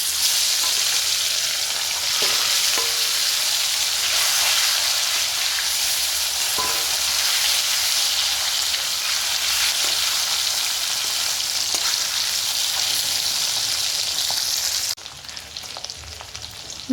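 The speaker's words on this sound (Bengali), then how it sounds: "কড়াইতে সর্ষের তেল গরম হয়ে গেছে, এখন আমি নুন হলুদ মাখানো মাছগুলোকে ভেজে নেব।" Turmeric- and salt-rubbed fish frying in hot mustard oil in a kadai, a steady loud sizzle with crackling spatter that runs without a break, then drops to a quieter hiss near the end.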